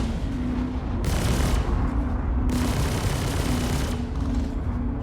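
Spaceship weapons fire in the Star Citizen game during a dogfight, loud bursts of rapid shots in two or three long volleys over a low steady hum.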